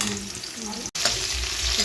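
Onions frying in hot oil until reddish, a steady close sizzle with stirring scrapes, cut by a brief dropout midway, with no voices.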